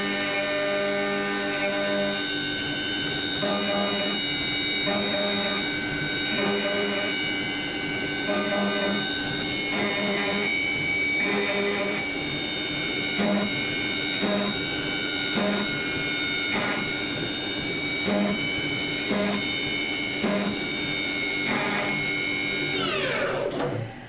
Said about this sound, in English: we're just going to come take the last 10 thousandths off just to get that nice mirror finish